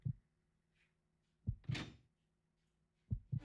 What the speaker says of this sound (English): It's opening this door really freaking slowly.